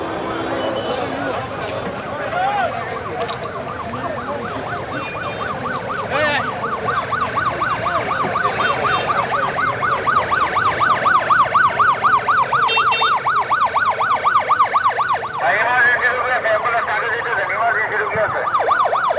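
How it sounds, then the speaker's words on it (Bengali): An ambulance siren wails in a steady repeating up-and-down pattern as it moves along a crowded road at 300 Feet packed with people awaiting a political leader, loud and continuous amid crowd noise and voices. "আমরা দেখতে পাচ্ছি অ্যাম্বুলেন্স যাচ্ছে এমার্জেন্সি রুগী আছে"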